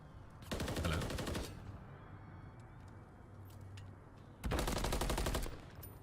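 Two rapid bursts of MCW rifle fire in a Halo match, each about a second long with a few seconds of quieter game ambience between them.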